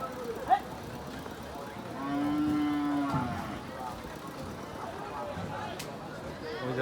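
A single deep moo from a cow rises out of the crowd noise at a large Eid livestock market in Singair, held for a second or so amid faint background chatter.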